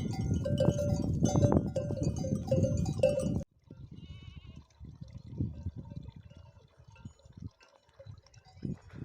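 Sheep bleat close by on a mountain over a steady rush of running water as they are watered, followed by quieter shuffling and occasional bleats once the water stops.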